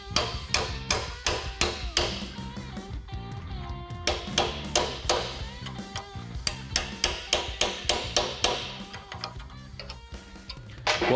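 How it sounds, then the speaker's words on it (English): A hammer strikes a cold chisel wedged between spot-welded metal panels on a 1966 Chevy Nova, with sharp ringing metallic blows repeating in quick, fairly regular succession, loud and close. "use a cold chisel, set it in between these two pieces of metal, and strike it with the hammer a few times"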